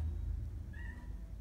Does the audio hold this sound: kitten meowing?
yes